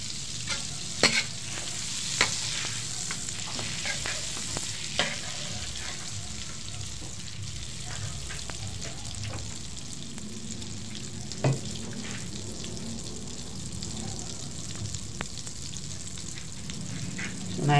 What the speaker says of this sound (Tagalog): naglagay po tayo ng butter para sa igigisa natin